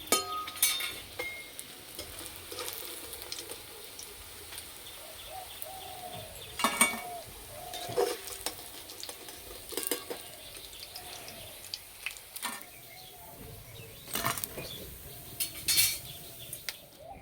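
Soybean kofta fry in oil under a quiet low sizzle, while the pan and utensils are handled with repeated metallic clinks and scrapes spread through the passage, close by and with no talk.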